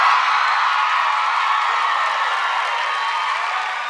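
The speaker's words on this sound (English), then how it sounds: "Ellen's audience can't help but applaud this man's gains, and the crowd goes wild" A talk-show studio audience claps and cheers loudly and continuously, a dense wash of applause and whoops that eases slightly toward the end.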